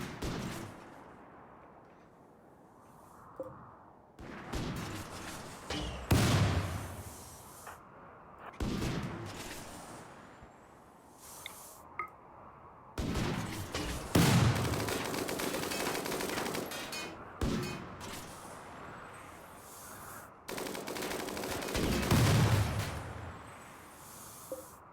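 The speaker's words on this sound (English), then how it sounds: "so I'm just gonna start shooting this" Colonists in RimWorld open fire in repeated volleys of sharp gunshots and rapid bursts, loud and dense, coming in waves with short quieter gaps across nearly twenty-five seconds, no voices.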